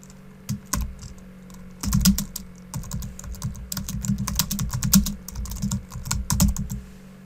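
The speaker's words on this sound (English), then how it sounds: "we highlight and we type our" Rapid typing on a computer keyboard while entering subtext into a design template, with clusters of crisp close keystrokes in uneven bursts and brief pauses, no voices.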